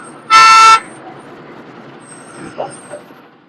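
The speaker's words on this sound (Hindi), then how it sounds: "हॉर्न पे हाथ है, ब्रेक नहीं यूज करते।" A single loud vehicle horn blast of about half a second in traffic on a road in Bikaner, Rajasthan, with faint engine rumble and distant horn toots after it.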